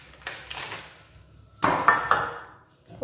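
Semolina is mixed in a bowl, giving a few soft scrapes and several sharp clinks of a spoon against the bowl, close and quiet with no talk.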